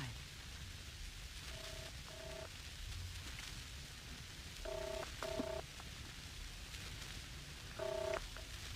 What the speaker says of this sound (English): I just had to phone David